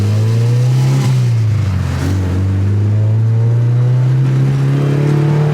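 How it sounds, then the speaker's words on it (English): Honda Civic Si on D2 coilovers revving to high RPM, its raspy exhaust with a possible exhaust leak holding a loud, steady, droning tone close by for several seconds, with no talking. "I'm tired of how raspy and annoying this car sounds as soon as you start to get to high RPMs"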